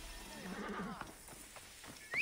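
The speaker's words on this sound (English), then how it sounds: "That's when I take the horse and just leave again." A horse in Assassin's Creed Origins gives a single faint whinny, a brief wavering neigh near the start followed by quiet hoof and game sounds, with no talk.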